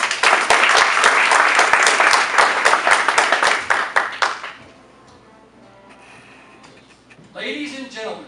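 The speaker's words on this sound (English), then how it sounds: "please join me in a round of applause for the newest air defenders in the United States Army" Loud, dense applause fills a graduation ceremony for new United States Army air defenders, then fades away after a few seconds, leaving quiet room tone and a brief murmur near the end.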